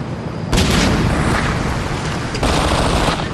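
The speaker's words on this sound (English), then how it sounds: "Suppression fire!" Suppressive gunfire in the tactical shooter Ghost Recon 2, a loud, dense burst of automatic weapons fire and booms that runs without pause, with a fresh surge partway through.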